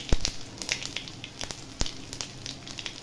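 Chopped garlic hits hot oil with a pinch of hing in a pan: a close, steady sizzle with scattered sharp pops and crackles, no voices.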